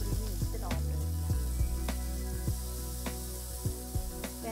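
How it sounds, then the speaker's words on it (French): Mushrooms and peppers searing in hot oil in a pan, a steady bright sizzle with occasional soft clicks and stirring knocks, close and continuous with no talk. "dans la même poêle, chauffez un peu d'huile. Saisir les champignons et les poivrons environ 3 minutes."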